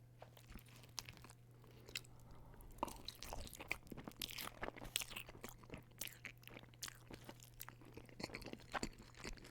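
Close, quiet crunching and wet chewing of Wendy's cheese fries, with irregular soft bites and mouth sounds over a low steady hum and no talking.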